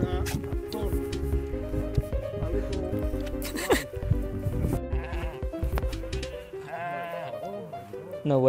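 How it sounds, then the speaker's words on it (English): A sheep in a mountain biome in a video game bleats several times at close range over background game music and ambient sound. "Oh, that's a sheep."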